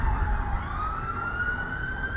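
Emergency sirens wail continuously at a distance, a slowly rising tone over low rumbling background noise, with no voices.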